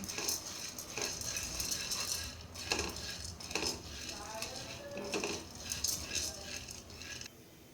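A utensil scrapes and rattles steadily against a pan as dal is stirred and roasted in ghee, with intermittent metallic clinks throughout, moderately close and without talk.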